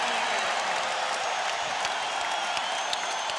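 A basketball arena crowd in Indiana roars during the 2000 Finals Game 4 between the Pacers and the Lakers. The noise is a dense, continuous wash of cheering with scattered claps, steady and fairly loud.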